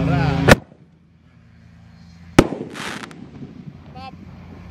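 Two sharp, loud Roman candle firework bursts at night during Ramadan festivities, each a sudden blast with a crackling tail, then a brief hiss and scattered pops, with a voice heard between the blasts.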